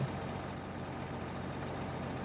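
A tractor engine in Farming Simulator 2013 runs steadily while planting, a continuous low mechanical drone with a faint rhythmic knock, even in level and alone.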